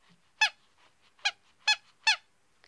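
A squeaky stuffed animal toy squeaks four times at uneven intervals, each squeak short, sharp and close, with quiet pauses between and no talking.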